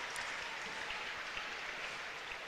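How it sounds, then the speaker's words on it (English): Distant stadium crowd applauding Bolton Wanderers substitutes coming out to warm up at a pre-season friendly against Huddersfield Town, a faint, steady wash of clapping with no clear voices. "Round of applause for some of the Bolton subs who've just come out to warm up."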